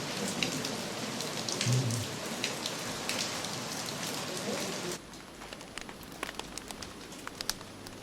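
Steady rain falling on surfaces in Chefchaouen, Morocco, a dense even patter that continues throughout at moderate volume, with faint bird calls and occasional sharper drip taps. A softer, quieter stretch follows partway through.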